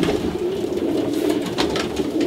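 Racing pigeons coo steadily in a loft, a continuous low murmur of several birds with faint higher chirps over the top.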